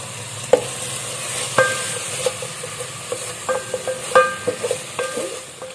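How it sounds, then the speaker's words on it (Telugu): Fresh mint frying in a pan for coconut milk rice, stirred with a utensil that clinks and scrapes against the metal in quick irregular strokes over a soft, steady sizzle, close and clear with no talking. "పుదీనా కొంచెం తిప్పుదామండి మళ్ళీ"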